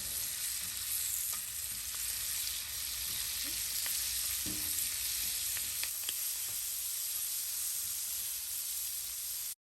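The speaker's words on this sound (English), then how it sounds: "we're going to take our spatula and toss the shrimp around because I want it to be well coated with our herb and garlic butter" Shrimp tossed with a spatula in herb garlic butter sizzle loudly and steadily throughout, with faint scraping taps from the spatula under the constant hiss.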